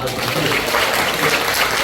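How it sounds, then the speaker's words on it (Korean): A church congregation at a summer mountain revival service claps together in a dense, steady wash of applause lasting about two seconds, with a voice speaking over it. "박수 한번 쳐주세요"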